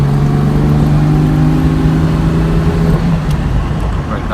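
A 1963 Jaguar E-Type fixed-head coupé pulls onto a freeway through its gears. A steady engine drone rises, then drops as it shifts near the end, heard from inside the car under road and wind noise.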